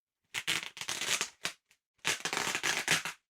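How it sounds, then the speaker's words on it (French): Packing tape is ripped off a cardboard parcel in long, harsh tearing strips, close and loud, with a short pause between pulls. "les bruits de scotch, les gars, c'est infâme"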